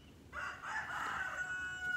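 A rooster crows loudly and close by, one sustained call that rises and holds for most of the moment, with no talking over it.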